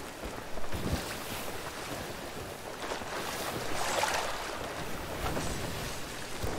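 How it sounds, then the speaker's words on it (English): Water laps and washes around a wooden pirate ship in the Sea of Thieves video game: a steady, soft, airy sloshing with faint wind and gentle swells, heard close and alone. "I can hear the water."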